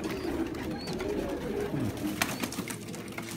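Pigeons coo softly in a loft with low, warbling calls under faint background noise and a few light clicks, no talking.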